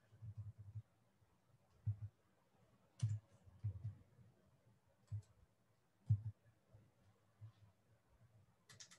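A password being typed on a computer keyboard, with sparse, quiet key clicks in small bursts separated by pauses.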